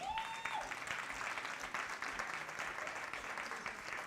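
Applause from an audience of women at a Women's Day symposium, a soft, even spatter of clapping that holds steady throughout at low volume.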